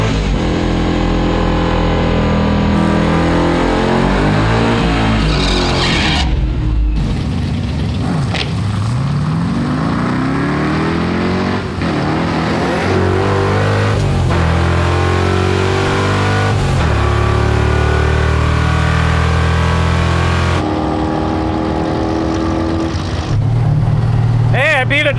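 A 4-speed Chevy Nova with a 327 engine roars through a quarter-mile drag run, loud and close, its revs climbing and dropping through repeated gear shifts without a break.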